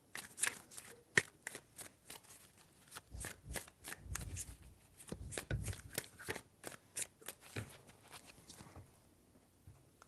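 Tarot cards shuffled by hand in a quiet room, a rapid run of crisp riffling slaps and flutters in short bursts, close and fairly soft, with no talking.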